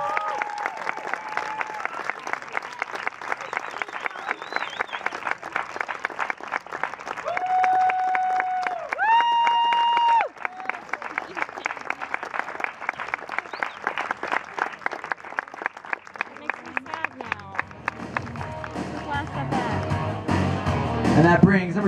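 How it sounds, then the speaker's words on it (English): A crowd at a baseball game applauds steadily and loudly for a batter's final home at-bat, with organ-like tones playing over the clapping and cheering throughout. "Let's give him a big round of applause."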